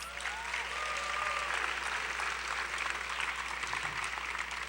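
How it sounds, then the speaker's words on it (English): An audience at a 2011 Lady of the Bracelet pageant claps steadily throughout, a dense, continuous wash of applause heard from within the hall with faint voices mixed in. "Let's give them all a round of applause."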